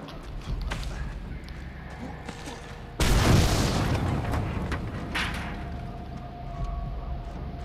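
A sudden loud boom erupts in the video game Mad Max, followed by a long rumbling roar that slowly fades over several seconds amid background game noise.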